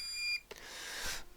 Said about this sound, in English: It was beeping.